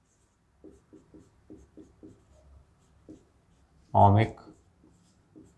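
Chalk or marker writing out a definition of ohmic conductors on a board in a classroom lesson: a series of short, evenly spaced scratchy strokes, followed by one loud spoken word and another faint stroke.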